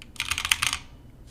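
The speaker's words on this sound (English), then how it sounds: "as you can see from me typing on my keyboard." Fingers tap a computer keyboard in a quick burst of about a dozen close, crisp clicks, then fall silent in a quiet room.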